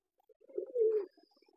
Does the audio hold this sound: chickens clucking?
no